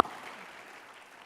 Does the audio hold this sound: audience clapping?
yes